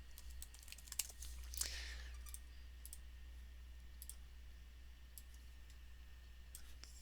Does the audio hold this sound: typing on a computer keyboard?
yes